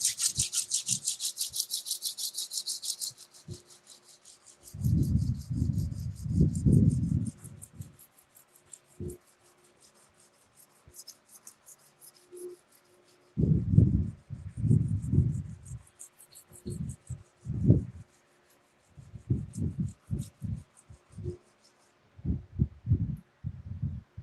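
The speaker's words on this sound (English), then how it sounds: "let me get back to the sanding, not the grind" Wood being sanded by hand in a workshop, heard as bursts of rhythmic rasping strokes separated by quiet pauses. It sounds close and moderately loud, with no talking.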